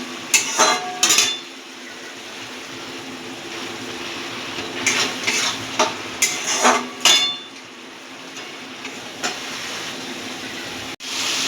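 A spoon stirs spice paste and sugar frying in oil in a pan, giving sharp clinks and scraping bursts in uneven clusters against a quiet background, with no voices.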